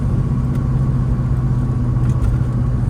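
A 1972 Plymouth Roadrunner rolls along with a steady, low engine rumble that stays constant and fairly loud throughout, with no talking.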